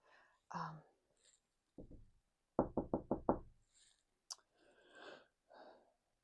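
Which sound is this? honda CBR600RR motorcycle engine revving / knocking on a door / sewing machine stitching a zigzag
knocking on a door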